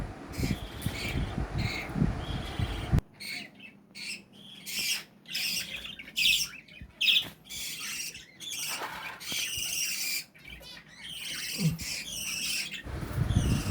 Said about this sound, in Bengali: আর এটা হচ্ছে আমার হ্যান্ড ফিডের পাখিটা, ছোট্ট পাখিটা